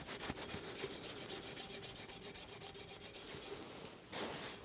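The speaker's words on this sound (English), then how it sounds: "you can see that this copper pot or jug is actually cleaning up. It's so abrasive." An abrasive plant scouring pad scrubs a copper pot, giving a quiet, rapid, rhythmic rasping with regular back-and-forth strokes, faint and close, with no talking.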